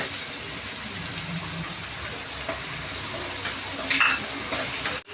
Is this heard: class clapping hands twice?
no